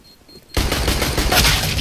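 In Counter-Strike: Global Offensive on the Dust map, after a quiet moment, rapid gunfire erupts suddenly and continues as a dense, loud burst of shots.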